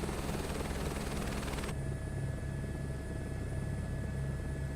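A helicopter rotor drones steadily in the video game Microsoft Flight Simulator 2024, a constant, close, engine-heavy whir with a low pulsing beat and no talk.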